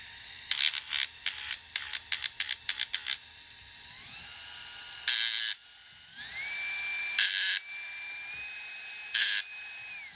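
A small Proxxon power carving chisel with a brushed motor buzzes in a rapid series of short bursts, then runs in longer steady whines that rise and shift in pitch at slow speed, close and fairly loud with no talk.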